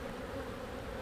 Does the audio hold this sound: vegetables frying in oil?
no